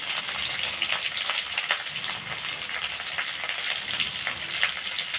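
Chana dal, coriander and dried red chillies frying in hot oil, a dense continuous crackling sizzle with small popping bursts throughout, close and steady, no voices.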